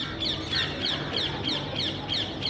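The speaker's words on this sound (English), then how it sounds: "Yeah, nice background sound. Which bird is that by the way?" Outdoors on a terrace, a bird gives a steady run of sharp, high chirping calls, repeating about every third of a second over a constant background hum.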